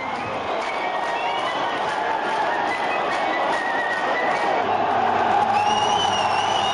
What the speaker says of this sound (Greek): τα χειροκροτήματα που ακούγονται είναι για τον Δημήτρη Σαραβάκου, που τελικά επιστρέφει στο παιχνίδι